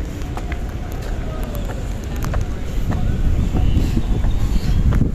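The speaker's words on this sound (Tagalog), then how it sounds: "Sarap ng hangin." Steady wind rushing past, a broad low roar that grows slightly stronger toward the end, with no voices.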